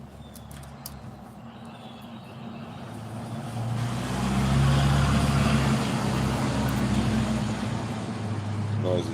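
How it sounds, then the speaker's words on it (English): A noisy truck passes on a road on a morning after rain; its rumble swells from a distant drone to a loud peak midway and lingers before easing. "Noisy truck bothering your rest."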